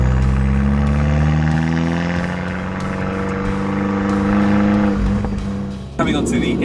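An Abarth 595 engine and exhaust rumble loudly up close, the pitch sliding and shifting through changes in revs, with a sharp crackle near the end. A voice talks faintly under the engine.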